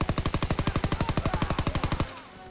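Rapid automatic gunfire in Call of Duty WWII, a loud, evenly spaced burst of around twenty shots in quick rhythm, ending abruptly into a faint background rumble.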